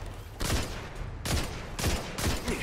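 Sniper gunfire in the Destiny 2 campaign: three or four loud, sharp shots spaced about a second apart, each with a bright crack and a short echoing tail.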